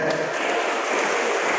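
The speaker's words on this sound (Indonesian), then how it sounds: "Tepuk tangan." Sustained applause from an audience of mothers at an Islamic school's Quran graduation ceremony, a steady unbroken wash of clapping filling the short moment with no distinct voices.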